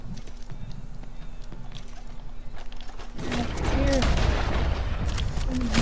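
Horse galloping in Red Dead Redemption during a gang war, hoofbeats rising louder after a few seconds amid sporadic gunfire and game effects, with a voice talking over it.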